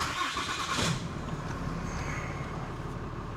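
A 2021 Cummins 6.7 diesel truck engine cranks and catches, a brief burst of cranking followed by a steady, moderately loud idle rumble close by.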